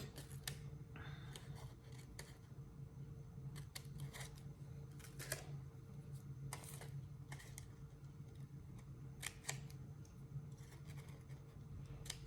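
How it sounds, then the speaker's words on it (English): Scissors snip paper in quick, irregular cuts, trimming small triangles out of a paper Vans shoe template. The crisp, close snips come in clusters over a steady low hum. "you have to carefully cut out each of these little triangles"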